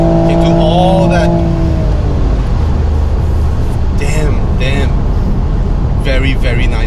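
A 2019 Toyota Supra's engine drones loudly from inside the car while driving, a steady rumble with a tone that rises and shifts, while people talk over it.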